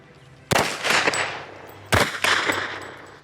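Two loud, close bursts of automatic weapon fire, each a rapid rattle of shots with ringing echo, separated by a short pause on a firing range.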